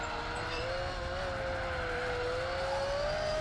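Storm V12 race car in a racing game on the Mazda Raceway track, a steady high engine drone with a rising and dipping pitch line through gear changes, continuous and close.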